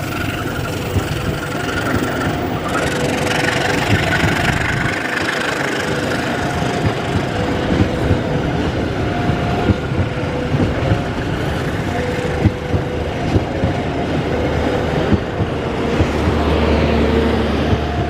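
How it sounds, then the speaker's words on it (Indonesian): A train rumbles past on a railway line in Solo, a loud, close, continuous engine drone and clattering roll throughout, with low throbbing near the end and no voices. "Kereta api Parsel Selatan"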